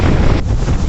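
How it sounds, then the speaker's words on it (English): Hurricane Sandy at its peak: loud, steady wind roaring and buffeting the microphone, with the rumble and wash of storm surge flood water beneath it, continuous and close, with no voices. "The hurricane is at its peak right now."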